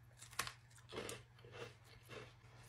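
Thin, crispy Tate's Bake Shop pumpkin spice cookies crunch between teeth in close, quiet bites, several crisp chews in an uneven rhythm with no talking.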